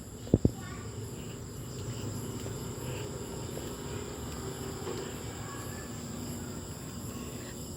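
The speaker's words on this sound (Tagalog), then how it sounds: "Ayan, maririnig na natin yung mga kulisap. Kuliglig." Steady high-pitched cricket chirping fills the background continuously, with a couple of sharp clicks near the start and faint voices underneath.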